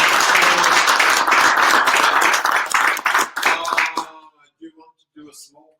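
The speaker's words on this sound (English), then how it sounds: "let's do a round of applause." Audience at a PHP developer meetup bursts into loud close clapping that runs for about four seconds, then fades into a few scattered final claps and quiet voices.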